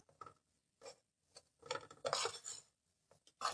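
Wheat flour roasting in a pan, stirred with a utensil that scrapes and clinks in short intermittent strokes, quiet and close, with no talking.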